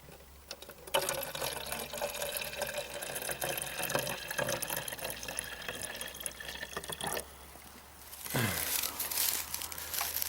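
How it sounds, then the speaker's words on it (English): Birch sap poured carefully into a pint bottle, a quiet close trickle and gurgle with crinkling handling noises, a short pause, then a stronger splashing pour near the end, no voices. "empty this one very, very carefully. It's going into this pint"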